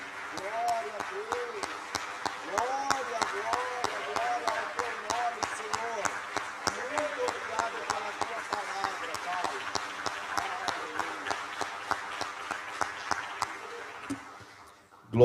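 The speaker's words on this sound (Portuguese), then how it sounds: "dê uma linda salva de palmas para a palavra de Deus" A church congregation applauds in a steady crackle of many hands for about fourteen seconds, with voices and music-like tones running underneath, then stops abruptly.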